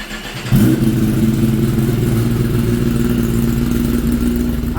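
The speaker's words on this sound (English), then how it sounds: "We'll fire it up. You can see what it sounds like with the DB killer slash baffle in." A 2024 Kawasaki ZX10 with an Arrow exhaust and the dB-killer baffle fitted fires up and settles into a loud, steady, even idle rumble close by, with no talking.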